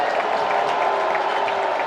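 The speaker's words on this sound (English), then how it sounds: "we've got a little bit of a rise out of the crowd right now" A basketball arena crowd at a college game cheers and applauds in a steady roar during a scoring run, loud and continuous, with no clear voices above it.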